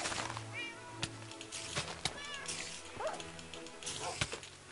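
Dogs or wolves barking and yipping in Minecraft, several short calls scattered over a few seconds amid game noise, with meow-like cries mixed in.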